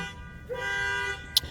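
A car horn sounds once in a New York City street, a steady, moderately loud toot lasting about half a second. A brief sharp click follows just after it.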